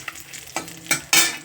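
Flattened rice pulao with peanuts is stirred in a frying pan, giving three or four short bursts of scraping and sizzling, the last one loudest, with no voices.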